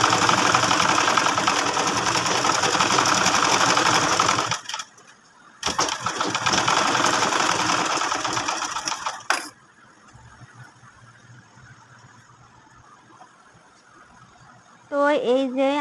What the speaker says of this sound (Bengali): এখন এই জামার সোজা পাটের উপরে আমি এভাবে চাপ সেলাই বসিয়ে দিব।